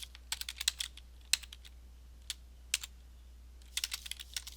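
Typing on a computer keyboard while entering a search query, quick clusters of crisp key clicks separated by short pauses, close and fairly quiet over a low steady hum, with no voices.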